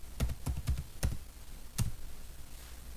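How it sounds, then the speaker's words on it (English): Close, crisp keystrokes on a computer keyboard while a command is entered, a quick run of clustered taps followed by a pause and one last isolated press, with no talking. "Now you can type VASPKIT."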